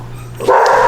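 A dog indoors gives a single loud, close bark that rings on briefly, preceded by a low steady hum.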